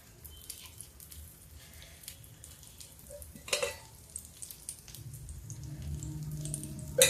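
Oil sizzling around a besan dosa on a pan, a soft steady frying hiss at low level with a few faint clinks, growing slightly louder toward the end.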